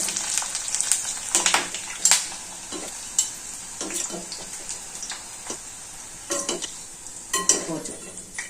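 Ivy gourd pieces coated in corn flour fry in hot oil for a catering-style stir fry, a constant soft sizzle broken by irregular scraping and clinking strokes of a spatula stirring against the pan.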